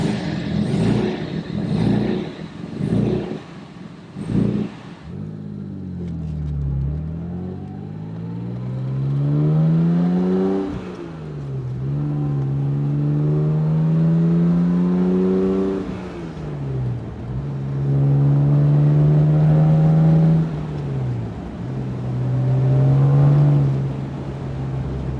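A 1967 Jaguar E-Type Series I engine, freshly tuned, gives a few sharp blips and then revs up and down in long, smooth, rising sweeps, loud and close with no voices.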